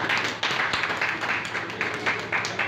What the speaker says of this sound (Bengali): আমাদের সকল পক্ষ থেকে জোরে একটা হাততালি দিতে চাই।